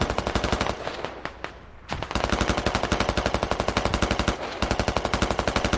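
Rapid, loud machine-gun fire from a PKP and a BTR in a war video game, with long sustained bursts broken by two short pauses, close and dominant with no voices.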